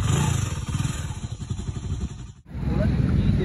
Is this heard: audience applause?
no